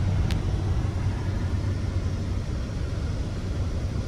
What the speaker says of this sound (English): First time towing with the new Chevy 2021 10-speed Allison transmission.